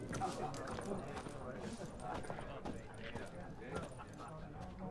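Horse hooves clip-clop steadily in The Witcher 3: Wild Hunt, a faint rhythmic patter mixed under continuous talking and game background noise.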